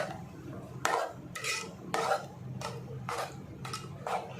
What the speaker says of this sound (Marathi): आता परत मिक्स करून घ्यायचं